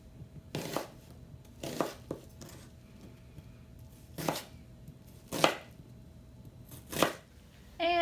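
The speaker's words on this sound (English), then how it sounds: "First thing I'm going to do is cut up my onion" An onion chopped with a knife on a board, five or six crisp separated strokes, some in quick double bursts, close and clear over a quiet background.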